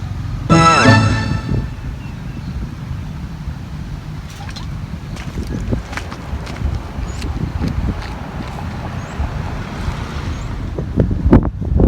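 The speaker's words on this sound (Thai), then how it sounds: "ลมค่อนข้างแรงครับผมคลื่นน้ำนี่ โอ้โห อย่างแรงลมพัดสายไปกระจายเลยครับ" Strong wind buffets the microphone at a fishing spot by the water, a constant roaring rumble with gusts, along with scattered clicks and knocks and a brief tonal sound near the start.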